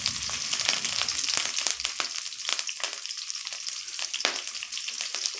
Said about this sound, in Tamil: ஆயில் காஞ்சதும் இப்போ நான் இந்த தாளிப்பை சேர்க்கிறேன்.